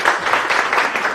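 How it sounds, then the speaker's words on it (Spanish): A conference audience at an academic panel claps briefly before a talk, a short burst of dense, even applause from a room full of people. "Un fuerte aplauso para iniciar la conferencia."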